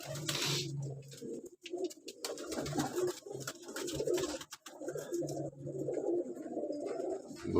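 Pigeons coo softly and repeatedly at close range in cold winter weather, low throaty calls overlapping with light rustling and wing flutters, no voices heard.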